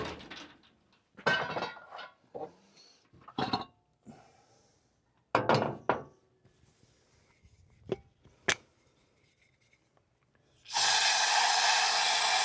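A short, sharp hiss from an aerosol can of ether sprayed into a drag car engine (a Mustang or Fairlane), a dense burst near the end after quiet handling clatter and brief knocks.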